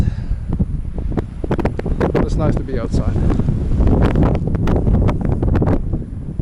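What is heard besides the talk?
strong wind outdoors by the sea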